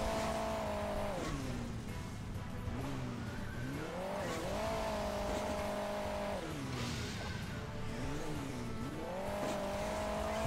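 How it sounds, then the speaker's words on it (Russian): Sports car engine from the Hill Climb Racing 2 video game drones steadily throughout, its pitch climbing and dropping in smooth revving sweeps with skidding tire noise, loud and close with no talk over it. "Спорткар"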